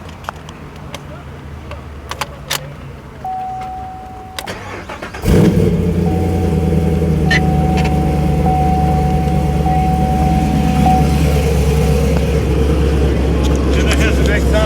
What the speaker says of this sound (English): the car itself has two modes in the exhaust system